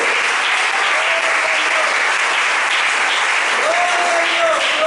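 Congregation applauding during a church service, a loud continuous wall of clapping from a large crowd, with faint voices and cheers blending in beneath it.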